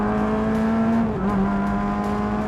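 A formula racing car engine runs during practice laps: a loud, steady, high-pitched whine held at near-constant revs, with one brief pitch drop midway like a gear change.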